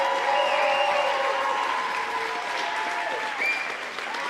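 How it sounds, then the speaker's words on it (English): A large crowd at a Big Time Ninja Finals qualifier claps loudly for the reset team, a thick roar of applause with some whistles and cheers sliding over it, easing slightly toward the end. "For Big Time, please, I hear a huge round of applause for my team."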